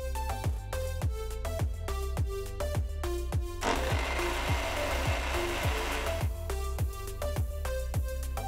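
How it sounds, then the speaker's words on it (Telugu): A mixer grinder whirs through mint chutney made with thick yogurt in place of water, a dense burst of a few seconds set against rhythmic background music. "ఇందులో నీళ్లకు బదులు నేను 3 టీ స్పూన్ల గట్టి పెరుగుని వేసి రుబ్బుతున్నాను."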